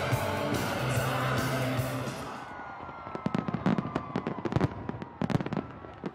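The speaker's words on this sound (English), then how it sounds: "watch the fireworks over the castle" Hogmanay fireworks over Edinburgh Castle: a sustained crackling burst fades, then a rapid string of sharp bangs and crackles follows, moderately loud and echoing from a distance.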